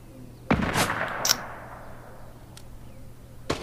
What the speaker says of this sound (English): someone's shooting me already!